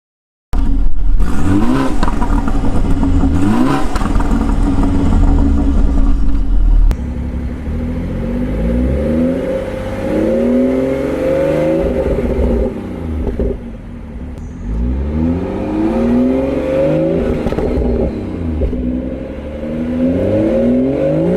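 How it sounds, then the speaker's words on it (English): A sunset orange BMW 340i F30 sedan with a modified exhaust accelerates hard, its engine note rising and falling through repeated revving sweeps and gear changes, loud and close with a deep rumble and no talking. "From the power it delivers and the exhaust note is just like"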